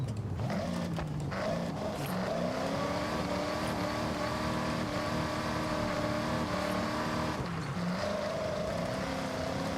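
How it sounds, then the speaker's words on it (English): Car engine in Forza Horizon driving at steady revs, a droning tone that rises and falls with short shifts in pitch and stays loud throughout, with no talk over it. "What's the loudest engine sound?"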